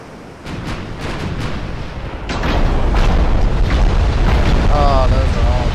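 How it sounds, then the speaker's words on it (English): Naval guns firing high-explosive rounds in the game Ultimate Admiral: Dreadnoughts, a series of booming blasts that build into a heavy continuous rumble, with someone talking over the gunfire. "Last few of the HE rounds are going out"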